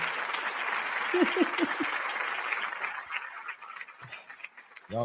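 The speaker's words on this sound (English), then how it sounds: "Y'all give her a round of applause, man." A crowd's round of applause runs as steady, fairly distant clatter, with a few short chuckles over it. It thins out toward the end.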